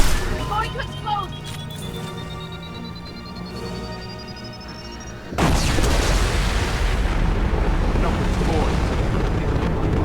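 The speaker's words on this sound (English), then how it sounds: "Systems failing. Armor defense is offline. We're going to explode." An explosion in the video game Mass Effect 2 bursts in abruptly after a stretch of quieter tones and hums, then rolls on as a loud, sustained broadband roar.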